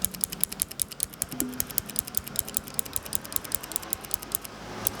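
Fast typing on a Keychron keyboard fitted with clicky LK optical blue switches, a dense steady stream of crisp close-up clicks and keystrokes with no talking.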